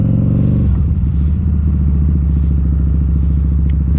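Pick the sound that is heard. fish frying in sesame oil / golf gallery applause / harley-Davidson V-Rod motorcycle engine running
harley-Davidson V-Rod motorcycle engine running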